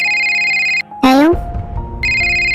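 A phone ringtone plays a repeating electronic melody, loud and close, briefly interrupted by a rising vocal exclamation before the tune resumes.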